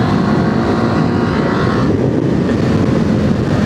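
A Kawasaki KLE500 dual-sport motorcycle engine drones steadily while riding, a loud continuous rumble mixed with heavy wind rush, no speech.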